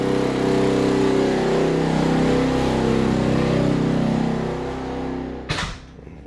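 A small 3,500 watt portable generator droning steadily outdoors at close range, loud and continuous, easing slightly before a sharp knock near the end.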